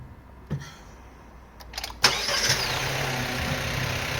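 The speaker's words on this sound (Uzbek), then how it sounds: "Mana mashinamiz zavat bo'ldi" An MG car engine cranks briefly, fires up with a sharp catch and settles into a steady, close mid-pitched idle that runs evenly to the end with no talk.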